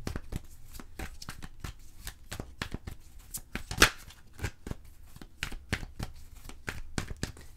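Tarot cards being shuffled and cut by hand, a rapid series of soft, crisp riffles and slaps, close and fairly quiet, with no talking.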